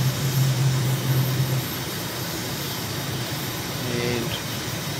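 Airplane engine in Microsoft Flight Simulator climbing out after takeoff, a steady, broad jet-like roar holding at an even level throughout, heard alone without talk.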